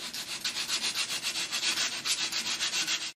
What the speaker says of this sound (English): You can use rough sandpaper curled in your hand while turning the shaft.